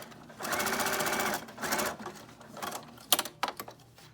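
A sewing machine stitches fabric pieces together in two sustained close runs, then the sound breaks into a few short clicks and taps of the machine.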